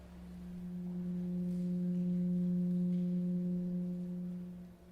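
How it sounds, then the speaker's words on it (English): Pure 180 Hz electronic test tone with faint harmonics, one steady unbroken hum that swells in gently and fades at the end, alone with no talking. "let's listen to what the 180 total degrees contained in a triangle sound like."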